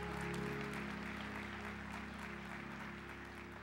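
A church audience at a vision day service claps, a faint, even wash of applause heard at a distance over a low steady hum, slowly tapering toward the end.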